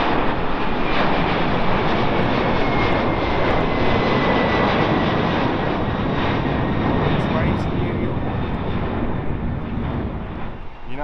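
A Delta Boeing 767 jet in SkyTeam livery roars past at Heathrow, a loud, sustained engine rumble with a rising whine, close and continuous for the whole stretch.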